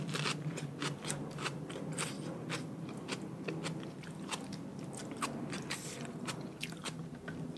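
Crunchy lotus stem being chewed up close, a quick series of crisp bites and crunches in a steady rhythm, faint and intimate with no talk.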